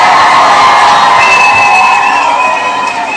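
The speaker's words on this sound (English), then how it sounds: "Let's give her another round of applause." Loud, dense crowd noise of cheering and whoops fills the full three seconds, a sustained roar from an audience with no distinct claps standing out.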